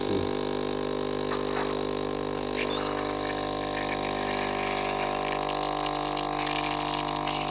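A CREATE Potts 3-in-1 multi-capsule coffee machine hums with a steady mechanical pump drone while liquid trickles and gurgles, constant and close throughout.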